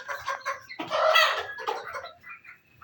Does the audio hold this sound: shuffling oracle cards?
no